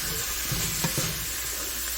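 Ground beef seasoned with spices and cumin is stirred in a hot pan, producing a steady sizzle with a few soft scraping strokes of the spoon.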